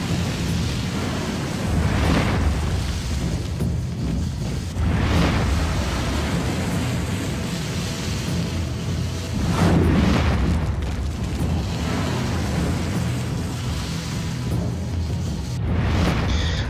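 Spells exploding in a Myth multiplayer match as Warlocks fire at each other, deep rumbling booms swelling and fading every few seconds over a steady low roar, with no voices.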